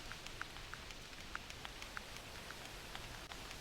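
Rain falls steadily in the hunting game theHunter Classic, a soft, even patter with scattered faint drops, with no talking.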